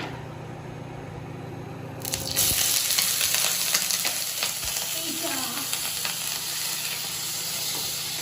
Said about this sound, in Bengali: তারপর তেলটা গরম হয়ে গেছে, আর এবার আমি পনিরটা ছেড়ে দিচ্ছি।